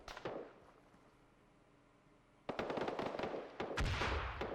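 Tracer machine gun fire in the video game Arma 3: a quiet ambient stretch, then sudden bursts of rapid gunshots with sharp cracks and heavy booming reports, loud and sustained to the end.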